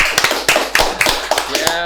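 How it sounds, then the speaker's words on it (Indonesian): A small audience at a talk show welcoming a street art group claps in a loose, sharp burst of separate handclaps, close and loud, over background voices. "Kasih tepuk tangan dulu."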